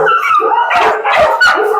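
Several Dachshunds and other small-breed dogs kept at a large animal shelter property bark and yip excitedly together, loud and close, in overlapping rapid bursts.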